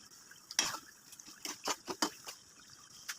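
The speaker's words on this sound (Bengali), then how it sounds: "আরও অ্যাড করলাম 1 কাপ পরিমাণ তরল দুধ" Liquid milk is poured into beef cooking with biryani masala, making quiet, irregular trickles and small splashes, several soft liquid bursts in quick succession.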